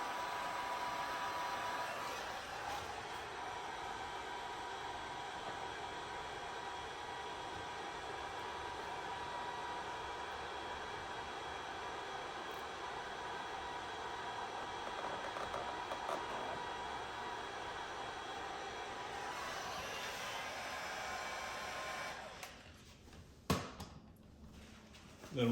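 Heat gun warming chrome delete vinyl on the window trim of a 2021 Jeep Grand Cherokee L, a steady airy blowing hiss held for a long stretch, then clicking off near the end.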